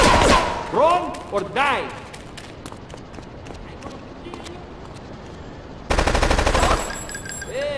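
Gunfire in GTA III comes as a loud sustained burst near the end, after stretches of shouting, running footsteps and a quieter background.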